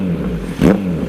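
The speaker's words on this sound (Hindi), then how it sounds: "थोड़ा सा रेव करता हूँ।" A Kawasaki Z900 inline-four motorcycle with a Racefit exhaust idles with a low throbbing burble, then gives one quick throttle blip that rises and falls in about a quarter second before settling back to idle.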